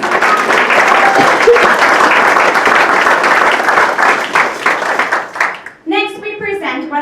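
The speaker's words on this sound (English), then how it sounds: "Let's give Todd Kent and Noel Olson a round of applause." Loud, sustained audience applause at a retirement community's Christmas follies show, dense clapping that thins out near the end before a voice begins speaking.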